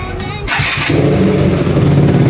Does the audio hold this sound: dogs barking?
no